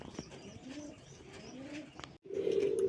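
Pigeons coo in a loft of old-breed local deshi and Raj Gola pigeons, a steady low rolling call running through with a brief gap before a louder nearby coo at the end.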